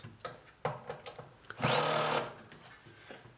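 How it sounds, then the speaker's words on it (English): Loudspeaker cones being tapped by hand in an old-versus-new speaker comparison: a few soft, sparse knocks followed by a brief louder burst, all quiet and close. "just tapping the cones in the speakers just to hear the difference between the old speaker and the new ones"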